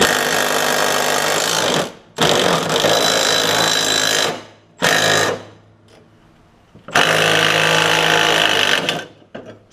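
An impact wrench loosens the 15 mm blade bolts on a John Deere L110 lawn tractor, firing three or four loud, sustained rattling bursts separated by short pauses.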